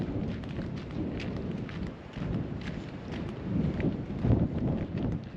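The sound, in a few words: wind blowing on the coast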